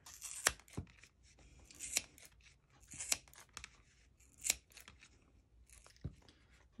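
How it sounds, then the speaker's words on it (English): Several close, quiet scissor snips through yarn, spaced about a second apart with faint rustling between cuts. "just snip my yarn"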